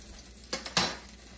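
A plate is set down after a cooked steak is placed on it: one soft knock followed by a brighter clink. Both are brief and near, over quiet kitchen background.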